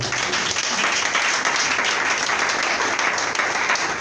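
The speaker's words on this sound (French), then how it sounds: "Acclamons le Seigneur." A church congregation breaks into sustained applause at a French-language worship service, a dense, steady wash of clapping from many hands that holds loud and even throughout with no voices standing out.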